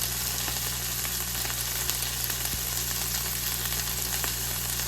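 Mixed vegetables and onion cook in a pan with a dense, steady sizzle over a low hum, with occasional light clicks of stirring and no speech.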